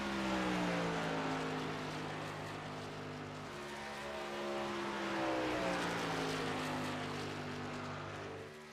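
Number 87 race truck in a truck-series racing game at Kansas roars around the track running the high line, a steady, loud engine drone with gear pitch sweeps and other trucks passing.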